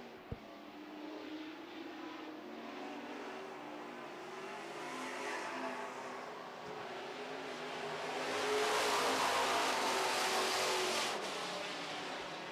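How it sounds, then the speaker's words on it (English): Super Trucks race down the front straightaway of an oval track, their engines roaring past in a rising, swelling rush that peaks near the end, heard at a distance without talk. "18 of Enns gets a little sideways on the front straightaway"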